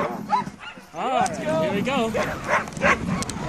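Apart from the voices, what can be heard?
sled dogs barking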